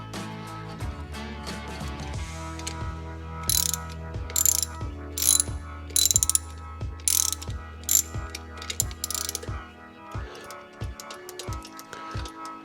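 Ratchet tightening the bolt and spring of a carburetor pump: rapid clicking pawl ratchet strokes in bursts, close and crisp, with metallic mechanical clatter between strokes.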